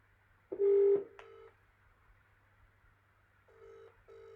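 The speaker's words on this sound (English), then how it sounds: "Right, we're going to get him on the phone." A telephone keypad dials out to place a call, a few separate electronic tone beeps in short bursts with quiet pauses between them, clear and close with no talking.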